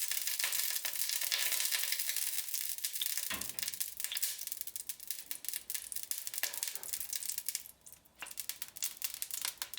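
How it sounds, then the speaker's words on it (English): Chopped bacon sautés in melted lard in a hot pan, a soft, steady hiss of frying with occasional crackles and brief dips, quiet and unaccompanied by speech. "add the chopped bacon and saute it lightly"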